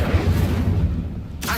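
An Incendio fire spell cast in Hogwarts Legacy gives a low rumbling whoosh of flame, followed by a short bright burst near the end over game ambience.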